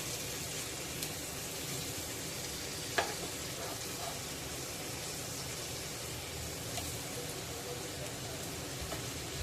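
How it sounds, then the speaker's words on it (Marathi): Kotya fish fries on low gas, giving a steady, even hiss of oil with a single light click partway through. "मच्छी उलटल्यानंतर पुन्हा पाच मिनटं आपल्याला मंद गॅसवरच फ्राय करून घ्यायची आहे"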